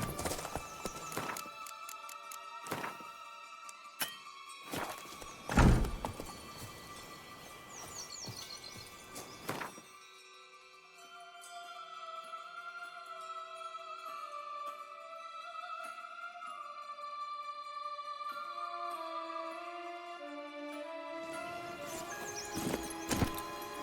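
Horse hooves clatter at a gallop in The Witcher 3: Wild Hunt – Blood and Wine, loud rapid thuds with a neigh, then the hoofbeats fade under swelling music before pounding back in near the end.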